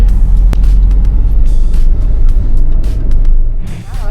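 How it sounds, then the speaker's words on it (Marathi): A car drives along a road on a trip in Goa, a loud continuous low rumble of engine and tyres heard from inside the vehicle, with occasional faint clicks and a brief warbling sound near the end, and no talking. "आता ड्रायव्हिंग करतोय"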